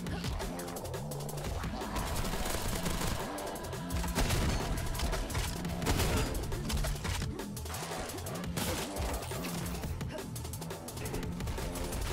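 Dense gunfire in the video game SPRAWL, a continuous barrage of rapid shots and impacts layered with loud game noise throughout, with no gaps.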